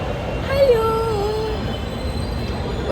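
A metro train at Dasarahalli station in Bangalore rolls past with a loud steady rumble, wheels squealing in a rising and falling tone near the start, the rail noise holding on throughout.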